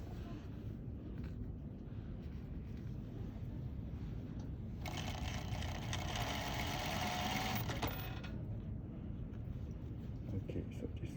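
Sewing machine stitching fabric edge to edge, a quiet steady whir running for a few seconds in the middle, surrounded by low background hum.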